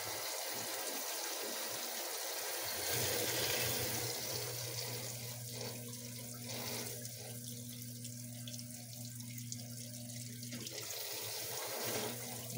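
Water pours steadily into the tub of a Frigidaire washing machine on a warm rinse, a continuous rushing flow with a low hum beneath, close by, and the flow briefly changes near the end.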